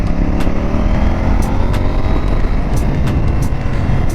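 A CFmoto 800NK motorcycle, rated at 100 horsepower, runs under partial throttle, giving a loud, steady engine drone mixed with rushing wind and road rumble that lasts throughout.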